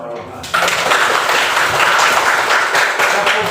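An audience bursts into sustained applause after a brief spoken moment, the clapping starting abruptly and continuing dense and steady, with a voice faintly beneath it.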